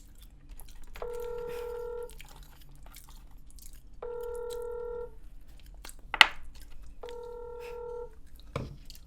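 Phone call tones while calling someone: three evenly spaced, steady multi-pitch beeps, each about a second long with gaps between, clear over a quiet room with a brief clatter near the end.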